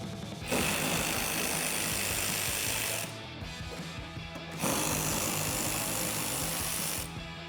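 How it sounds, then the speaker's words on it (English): A power driver with a 10mm socket runs in two sustained, loud whirring bursts while removing the top fender bolts on a 2016-2021 Toyota Tacoma, with a short pause between the bursts. "Next, we can remove the 2 bolts at the top part of our fender."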